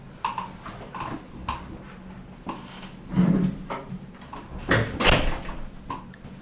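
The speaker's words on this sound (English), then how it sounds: "I closed my door." A door shuts in a quiet room, one of several short knocks and thuds. The loudest comes near the end, and faint movement sounds fill the spaces between them.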